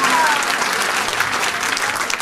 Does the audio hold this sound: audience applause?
yes